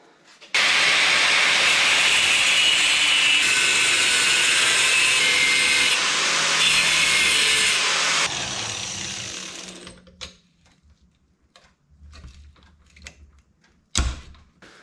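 A power tool grinds through the stator plate of a stock Yamaha Banshee engine during a rebuild, a loud steady hissing cut lasting about eight seconds before winding down, followed by faint knocks and handling noises.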